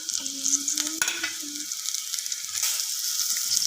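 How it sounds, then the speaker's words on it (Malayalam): Onions with curry leaves and green chillies are sautéed in a pan for tomato rice, a crisp sizzle mixed with repeated scraping stirs, close and moderately loud, with no voices. "ഇനി നമുക്ക് ഈ സ്റ്റേജിൽ കറിവേപ്പിലയും പച്ചമുളകും കൂടി ആഡ് ചെയ്ത് കൊടുക്കാം."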